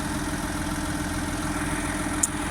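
A Deutz K610 tractor with a tuned, power-boosted engine idles steadily nearby, a continuous low rumble with a faint clatter and one small click near the end, no voices.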